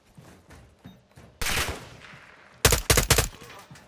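Gunfire from the Call of Duty: Modern Warfare 2 campaign, with a loud sustained burst followed by several sharp, rapid shots up close after quieter background action.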